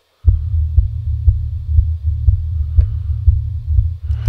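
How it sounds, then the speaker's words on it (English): Low-passed bass line and kick drum below 110 hertz play together as a loud, steady deep throb with the kick thumping in an even pulse, both crowding the same low register, with no voices. "So we can hear both the bass and the kick coming through, but they're kind of fighting for space."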